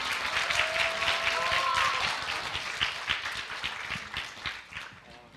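A Korean talk-show audience applauds actor Gong Yoo, a crowd of claps that holds strong at first and then thins and fades toward the end.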